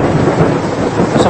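Heavy, steady downpour with a constant dense hiss of rain, a deep rumble of thunder rolling beneath it, loud and unbroken throughout.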